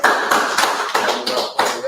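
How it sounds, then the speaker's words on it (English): A congregation gives a round of applause after a lesson: a burst of close, fast hand clapping swelling and dipping in waves over a couple of seconds. "we're going to give Nasik a round of applause for such a great lesson"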